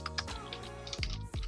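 Quick bursts of keystrokes on a computer keyboard as a web address is typed in, close and fairly quiet, a few clustered clicks separated by short pauses.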